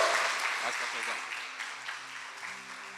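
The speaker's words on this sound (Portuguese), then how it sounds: "E aplaude Jesus pela vida do pastor Sandor." A church congregation applauds at a Sunday morning service, steady broadband clapping lasting throughout and slowly tapering, with a voice faintly speaking over it.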